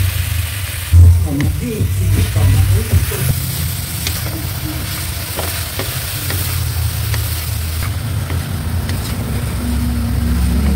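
Sliced carrots and chayote sizzle and get stirred in a pan for vegetable chop suey, a loud continuous frying hiss with scraping stir strokes and a low rumble beneath, close up, with a voice talking over it.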